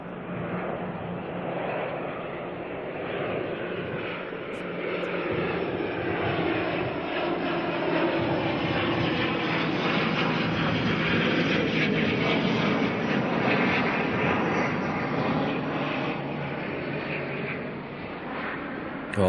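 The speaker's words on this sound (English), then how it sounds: "All right, let's grab this ATR coming on in." An Air New Zealand ATR turboprop from Palmerston North lands at Auckland, its propeller drone and engine hum swelling to a loud peak mid-pass, then easing, sustained and steady.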